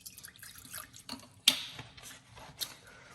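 Tap water splashes and trickles as a juicer part gets rinsed in a sink, with uneven drips and a sharper splash midway, close and fairly quiet.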